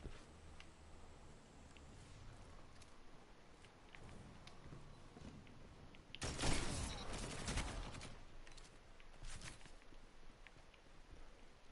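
Shotgun gunfire in the video game Gas Station Nightmares: a loud, dense burst of shots in the middle, set against a constant low background rumble of quieter game sounds.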